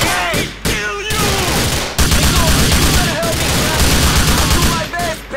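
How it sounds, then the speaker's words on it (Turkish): Gunfire in a street shootout in Grand Theft Auto IV, with loud, dense bursts of automatic and rapid shots running nearly continuously, briefly broken, with shouted voices over the firing. "Gördüğünüz gibi çatışma çıktı"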